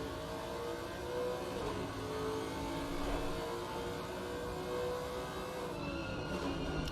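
In Assetto Corsa Competizione, a Lexus GT race car's engine drones steadily from the onboard view. It sits loud and close throughout, with the pitch shifting a little and no voices present.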